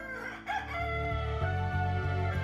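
A rooster crows loudly and close by, with a few chicken clucks mixed in, in one short burst.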